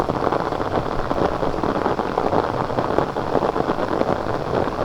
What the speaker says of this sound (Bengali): বৃষ্টি, ভালো বৃষ্টি হচ্ছে।